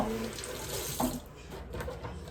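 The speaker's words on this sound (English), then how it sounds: "you wanna go ahead and rinse your hands off again" Kitchen sink tap runs steadily while hands are rinsed under the stream, a continuous close splashing hiss with a brief louder splatter midway.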